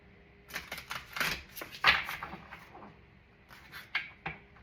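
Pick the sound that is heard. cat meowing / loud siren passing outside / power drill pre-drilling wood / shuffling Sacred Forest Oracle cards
shuffling Sacred Forest Oracle cards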